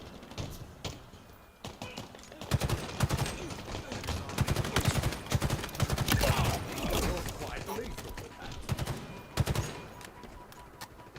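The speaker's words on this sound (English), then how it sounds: "Really like the Ravager. That's a fun gun." A Ravager plasma gun in Halo Infinite fires in rapid, sharp bursts of gunfire that come in clustered volleys over the game's ambient noise, loud and close.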